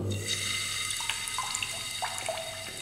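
Water flowing out of home plumbing as built-up pressure is released, a steady hiss with dripping and splashing, like a tap running into a sink, continuous and fairly close.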